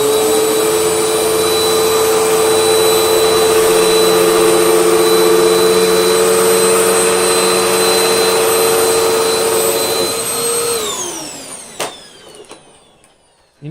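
A Hoover Windtunnel Max upright vacuum cleaner runs steadily and loudly along a carpet edge, with a constant whine and strong agitation, then spins down near the end.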